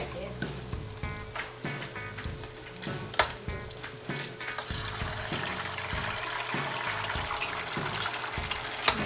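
An egg fries in an oiled pan with garlic for seafood fried rice, giving a steady sizzle punctuated by scraping stirs and clinks, close and moderately loud, with no talking.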